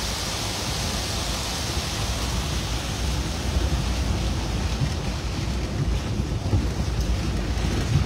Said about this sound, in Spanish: Y aquí está tipo cascada, que es lo que escuchas.